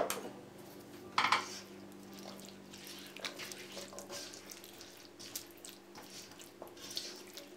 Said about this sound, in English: I'm going to add the boiled chana to it and mix well